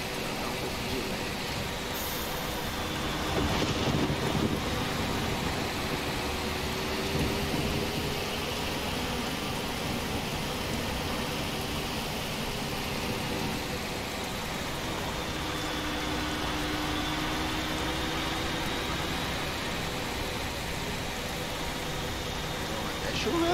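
Rain in a bus driving simulator (EAA Bus, Caratinga to Belo Horizonte route) falls as a steady broadband hiss over the constant engine hum and road rumble, continuous throughout.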